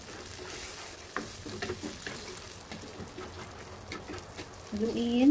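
Scrambled eggs stirred in a frying pan: a soft continuous sizzle with scraping and clicking of the utensil against the pan, moderately close, and a brief voice near the end.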